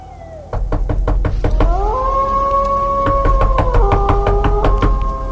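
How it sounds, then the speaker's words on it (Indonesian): Knuckles knocking on mirror glass: a steady run of sharp, loud raps, close and evenly spaced, over a sustained eerie tone that rises and holds. "lalu mengetuk kaca"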